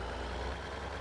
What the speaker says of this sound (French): Hop, j'emmène le tracteur ici.